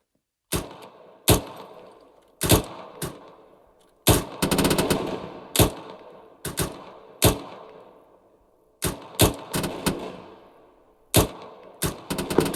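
Rapid gunfire in the Arma 3 military game, aimed at an enemy bunker: loud, sharp single shots and short bursts, including one sustained volley, crack out in irregular succession with echoing tails and no talking.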